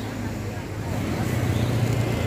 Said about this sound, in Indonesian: Wah, ada bus Budiman